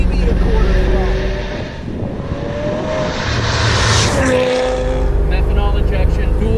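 Supercharged C5 Corvette making over 800 wheel horsepower, with dual methanol injection, held at about quarter throttle on a runway: steady loud engine drone, rising and falling, close by, with voices talking over it.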